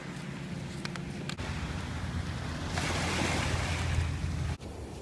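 Ocean waves wash and surge in a steady broadband roar, swelling louder midway through, with some wind buffeting the microphone; no one speaks.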